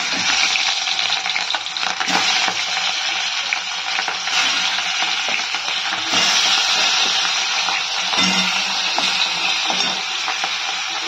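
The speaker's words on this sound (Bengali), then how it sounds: "দেখো এদিকে ভাজাটা এখনো হচ্ছে, কেননা কাঁকরোল ভাজাটা একটু সময় লাগে" Spiny gourd (kakrol) slices fry in a pan with a steady, dense sizzle throughout, broken by occasional stirring scrapes and nearby kitchen clatter; nobody speaks.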